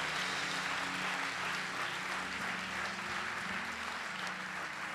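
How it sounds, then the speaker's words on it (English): Church congregation at a Sunday service clapping their hands as loudly as they can, a dense, continuous wash of applause that holds steady and fills the room throughout. "I need you just to clap your hands as loud as you can."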